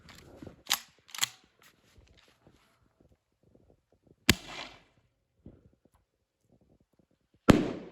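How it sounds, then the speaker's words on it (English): Firework shells fired into the night air to scare off a herd of elk eating hay, each launch a sharp pop followed by loud bangs, with three distinct blasts spread apart and quiet rustling in between. "So you shoot it off and it lobs that firework out into the air"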